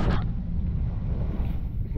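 A sailboat motors through swell with no wind, its engine a steady low drone under heavy wind buffeting on the microphone. A brief louder gust is heard at the start.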